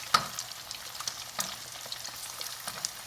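Eggs fry in a pan with a soft, steady sizzle broken by scattered crackles and pops, heard close but quietly, with no voices.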